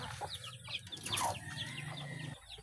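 Chicks cheep in quick high bursts close by, over a steady murmur of clucking chickens and background rustle, for under three seconds with no talking.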